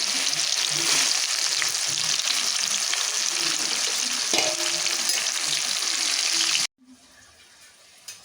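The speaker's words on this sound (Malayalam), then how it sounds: "മാങ്ങകളെല്ലാം ഇതേപോലെ വറുത്ത് കൂരിയെടുക്കാം" Mango pieces frying in oil, a strong, continuous bubbling sizzle close by for most of the time, with a few faint stirring scrapes, before the sound cuts abruptly to quiet near the end.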